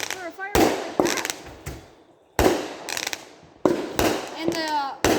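Consumer fireworks bursting in a row of sharp loud bangs, each followed by crackling and whistling fizz, with gaps between shots and people talking in the background.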